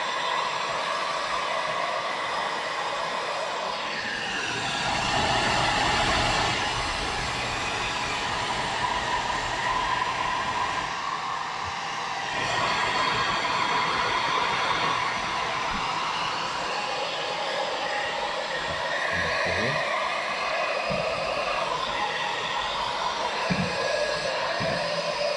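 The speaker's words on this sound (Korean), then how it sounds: "그래서 이렇게 드라이기로" A steady, loud rush of blowing air from a hair dryer continues throughout, with faint clicks and shifts in tone.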